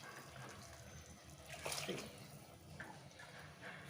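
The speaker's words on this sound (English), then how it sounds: "And now I'm putting in hot water." Hot water poured into a cooking pot while making green mutton curry, a short splashing gush rising near the middle of the clip, with someone speaking briefly over it.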